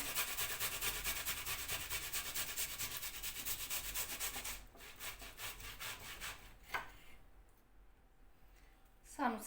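Zucchini rubbed against a hand grater in steady, rapid rasping strokes, loud and close for about five seconds, then trailing off into quieter scraping with a few sharp knocks near the end.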